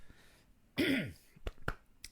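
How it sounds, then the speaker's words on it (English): A single throaty cough with a rasping, tickly clearing sound, followed by a few short clicks and small throat noises, close and fairly loud. "I apologise for this bloody tickly cough tonight."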